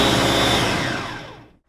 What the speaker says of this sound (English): our blender is done working its magic